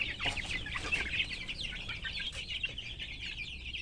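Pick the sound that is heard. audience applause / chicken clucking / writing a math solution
chicken clucking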